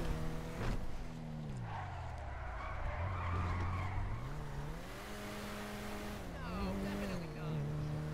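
A 7 Series BMW skids in GTA, its engine droning with pitch sweeps and a sustained tire squeal across the whole stretch, loud and continuous with engine tones rising and falling.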